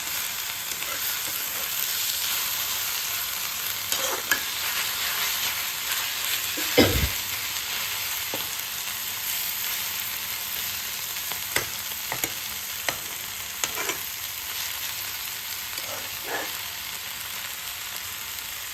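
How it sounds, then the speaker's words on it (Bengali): Steady hiss of fenugreek leaves sizzling in a hot wok, with occasional scraping clinks of a spatula stirring through them, continuous and close. "এটা আমি ছড়িয়ে দেবো কড়াইতে"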